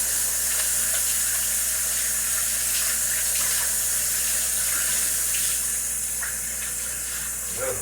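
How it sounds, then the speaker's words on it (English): Running tap water splashing over hands at a sink, a steady broadband hiss that holds throughout at close range and eases slightly toward the end, with no talk. "I'm gonna wash my hands"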